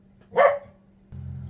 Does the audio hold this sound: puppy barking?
yes